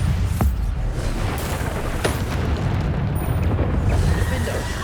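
Bombarda blasting spell explosions in the video game Hogwarts Legacy, a continuous dense rumbling roar with a few sharp cracks cutting through, loud and close throughout.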